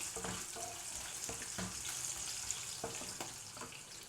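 Star anise, ginger and garlic frying in oil for kushka rice, a steady bright sizzle with occasional stirring clicks, close and fairly quiet, with no talking.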